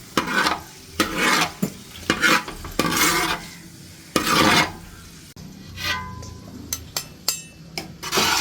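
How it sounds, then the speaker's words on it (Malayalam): Raisins sautéed in a pan for vermicelli payasam, with bursts of sizzling and repeated scraping stirs in an uneven rhythm, close and fairly loud, with no talking. "അപ്പോൾ നമ്മളിതിൽ മുന്തിരികൾ ഇട്ടിട്ടുണ്ട് കേട്ടോ. അപ്പോൾ അതിൽ നമുക്കൊന്ന് വഴറ്റിയെടുക്കാം."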